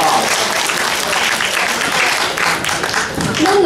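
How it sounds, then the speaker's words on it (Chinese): An audience claps in a full, sustained round of applause at a 2016 Taiwanese women's association annual meeting, the clapping dense and steady throughout. "please give me a round of applause"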